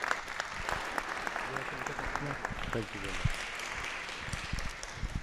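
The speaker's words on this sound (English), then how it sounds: "let's give him a round of applause" Audience clapping for a speaker taking the stage at a talk event, a steady round of applause at moderate distance, while a voice briefly says thanks over it.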